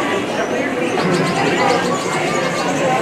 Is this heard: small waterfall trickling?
no